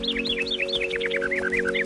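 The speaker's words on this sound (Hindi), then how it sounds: "ये पंछी, ये होगी सतरंगी।" A cartoon bird chirps rapidly in an animated series, a quick string of bright, rising and falling tweets over a sustained musical drone, loud and close with no talking.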